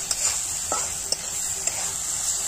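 Chicken masala roasting in a pan over a wood-fired stove, a steady bright sizzle running throughout with a few distinct stirring scrapes and taps of the spoon, close and fairly loud.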